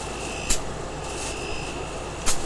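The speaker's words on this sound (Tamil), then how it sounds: "இப்போ நல்லா லோட் ஆகுது கம்ப்ரஸரு" A Samsung inverter air conditioner's outdoor unit runs under load after a PCB relay repair, giving a steady, close mechanical hum and whir with a faint tonal whine, broken by two short clicks or knocks.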